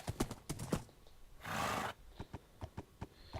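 Horse hooves in Minecraft, a quick run of sharp clip-clop steps near and clear, broken by a brief whinny-like burst before more scattered hoof clops resume.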